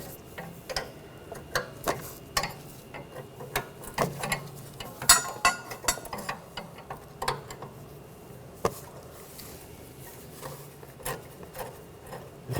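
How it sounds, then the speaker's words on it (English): An open-end wrench loosening a brake hose fitting on a 2009-2013 BMW 328i xDrive, giving irregular close metallic clicks and ticks over a quiet background, with no talk. "you can switch to a regular wrench. Just a regular open-end wrench. It makes it a little bit easier. And just loosen that up."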